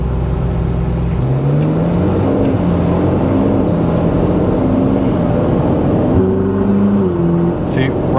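Ferrari 458 Spider engine accelerating as its exhaust valve opens around 3,000 rpm, a loud rising exhaust note stepping up in pitch through several gear changes, with a sharper, louder tone toward the end.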